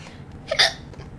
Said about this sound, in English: And that was a hiccup.